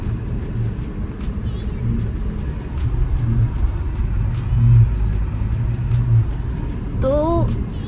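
A Mahindra Thar 4x4 drives a mountain road on the Manali to Shinkula route, its engine rumbling steadily up close with road and wind noise, rising slightly as it pulls, and a brief voice near the end.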